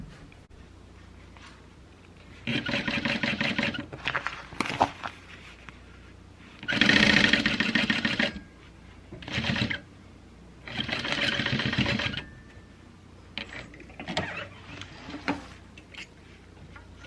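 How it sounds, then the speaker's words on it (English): A Juki 1181 sewing machine stitching a bag, heard in several bursts of rapid mechanical whirring and clatter, separated by quiet pauses, close by with no talking. "I am going to go ahead and sew this on"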